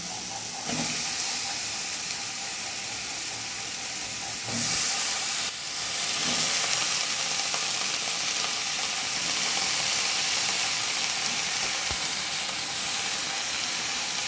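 Eggplant slices sizzle and hiss steadily in a hot pan, a continuous bright frying noise with a brief surge as more pieces go in, close and loud with no talking.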